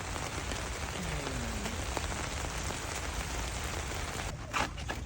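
Steady rain pattering on the surfaces of a car campsite in Zambales, a close, even wash of drops that runs alone with no talk.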